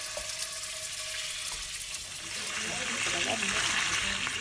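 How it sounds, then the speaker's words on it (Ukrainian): Pork ribs frying in a pan, a steady sizzle with soft crackling that grows a little louder toward the end. "Смажуємо ребра."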